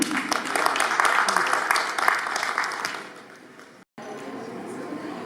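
Audience at an Urdu poetry mushaira in Quetta welcomes a poet with warm, dense applause that tapers off after about three seconds, then a brief dropout and quiet room tone.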